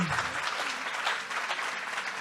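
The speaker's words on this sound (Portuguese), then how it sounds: "Palmas para Eldorado." An audience at a book fair applauds steadily throughout, a dense, even patter of many hands clapping at close range with no pauses.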